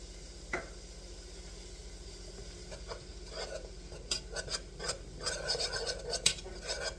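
A whisk scrapes and rattles against a metal pot while flour is stirred into chicken pot pie filling, with repeated brisk strokes that grow busier and louder toward the end, no voices over it.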